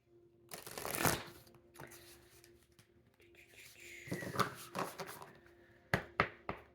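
Oracle guidance cards being shuffled at close range in a quiet room, soft riffling bursts and sharp card taps coming in clusters, with a few crisp slaps near the end.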